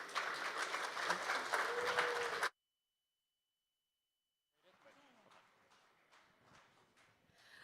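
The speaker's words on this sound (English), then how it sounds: "You know what we live for? RWAs, but also applause. So can we have some?" A conference audience claps briefly and quite loudly. After a short gap of silence, softer scattered claps continue under a speaker's voice.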